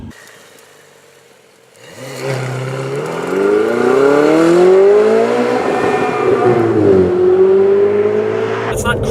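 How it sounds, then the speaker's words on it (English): A 2017 Ferrari 488 Spider sports car pulls away after a quiet opening, its engine note climbing loud and close through a long rising rev, dipping briefly, then rising again. "Let's drive the 488."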